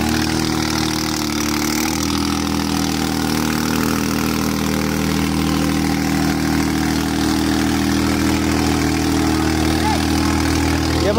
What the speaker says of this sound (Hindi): ये हमारे रिप्लेसमेंट का ट्रैक्टर पूरा जोर लगाते हुए